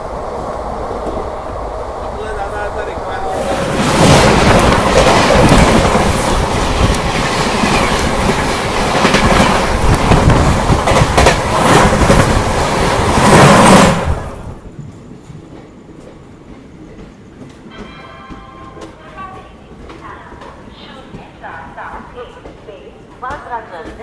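Passenger train on the Mumbai to Jaipur route rushing past Vaitarna station, a loud rumble with rapid clattering that starts suddenly after a few seconds and stops around fourteen seconds, leaving quieter carriage noise and faint talk.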